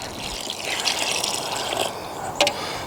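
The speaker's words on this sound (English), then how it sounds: "So I'm going to go ahead and fill up my water cup, trying not to get my hands wet, and put it in there." Water is poured into a cup to mix concrete for homemade fishing weights and sinkers, a steady close trickle and gush, ending with a brief clink.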